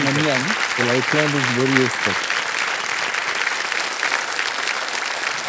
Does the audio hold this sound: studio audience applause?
yes